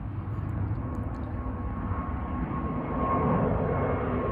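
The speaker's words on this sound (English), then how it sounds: "there's another plane going overhead" Low, steady roar of an airplane passing overhead near an airport, swelling slightly louder toward the end, with no talking.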